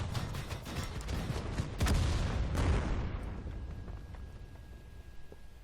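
Tank gun fire in World of Tanks from a G Pz Mk IV on the Province map, a booming report with a rumbling tail, followed by a louder burst of blasts near the middle before the noise fades into quieter ambience.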